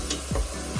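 A splash of white wine hits a hot pan of softened vegetables and gives off a faint, brief sizzle, with a couple of soft stirring scrapes.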